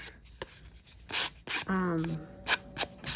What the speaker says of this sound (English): I just use the sanding block to help with that.